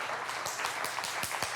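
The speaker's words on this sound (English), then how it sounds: "Give it a round of applause." An audience at a lie detector show applauds, the clapping faint and distant with a few sharper claps standing out, and no voices over it.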